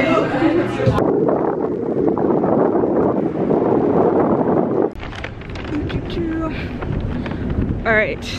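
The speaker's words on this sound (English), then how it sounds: "It's super windy, I don't know if you can hear me" Strong outdoor wind buffets the microphone in bursts on a New York City street, a loud continuous roar that eases briefly midway, with a voice faintly audible beneath it toward the end.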